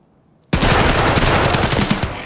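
Shotgun fire in the Escape from Tarkov video game: a sudden loud, close burst of gunfire after half a second of near silence, sustained with rapid overlapping reports and no talk.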